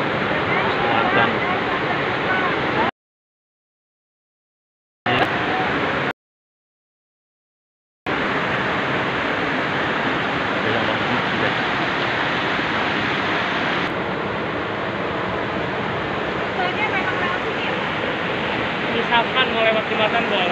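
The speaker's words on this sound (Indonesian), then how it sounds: "Sungai yang ada di Sentul Selatan." River in Sentul Selatan, steady rushing flow of water, loud and close, continuous throughout with two short silent gaps, no talk.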